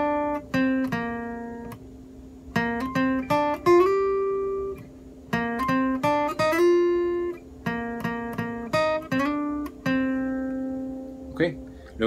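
Guitar picks out a melodic phrase from a song with clear single notes and slides, played in short groups separated by brief pauses, close and clean with no voice.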